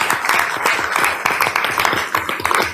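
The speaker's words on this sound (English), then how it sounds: "So I'd like to give everybody give him a round of applause." A sparse group claps at a board of education meeting, uneven individual hand claps sounding close and moderately loud for a few seconds, with no voices over them.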